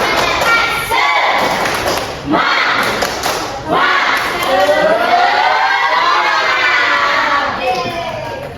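A classroom of students does the tepuk semangat clapping chant, with loud rhythmic thumping claps and many young voices shouting and chanting together, close and energetic.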